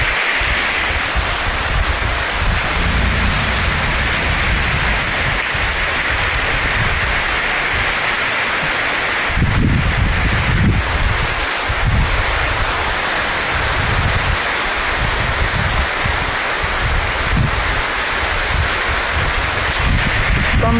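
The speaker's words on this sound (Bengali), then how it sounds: "প্রচুর প্রচুর বাতাস হচ্ছে, দেখেন ঝড় হচ্ছে" Heavy rain and a windstorm in Noapara, Abhaynagar, Bangladesh. A dense, continuous roar of downpour runs throughout, with strong gusts buffeting the microphone, and no voices.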